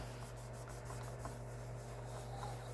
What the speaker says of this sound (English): when I go to rub, I'm going to rub on those sections that need work.